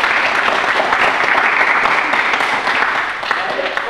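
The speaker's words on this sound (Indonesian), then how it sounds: "Kita beri tepuk tangan untuk kelas" A class of 12th-grade students claps together in a school classroom, a steady burst of dense applause close by that holds for several seconds and eases slightly toward the end.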